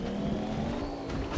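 A car in the Fortnite video game, its engine humming close and loud in a brief burst with a small pitch rise, with no talk over it.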